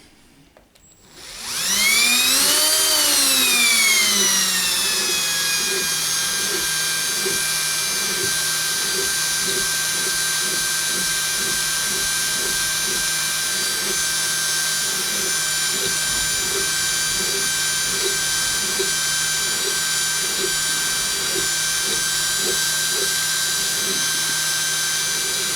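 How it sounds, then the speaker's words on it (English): A small file pressed against a workpiece spinning in a drill, part of fitting a front sight on an 1862 Pocket Police revolver: the drill spins up, then a steady whining hum with a regular rhythmic scraping ticks on, close and alone. "I have a small file, so I engage the drill. I actually file as the drill is spinning."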